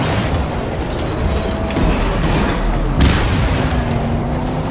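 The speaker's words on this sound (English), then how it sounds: "Why is everything exploding?" Explosions rumble through Mad Max gameplay, with dense, loud booming and mechanical clatter and a sharp burst around the middle, all continuous with no talk over it.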